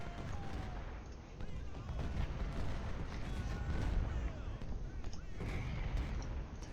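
Howitzer artillery fire in a Civil War battle at Gettysburg in Ultimate General: Civil War, repeated dull booms and crackling gunfire over a constant battlefield rumble, moderately loud and sustained, with no talking.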